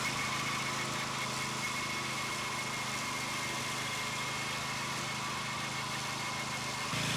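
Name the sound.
BCS gear-driven tractor with 26-inch mower deck running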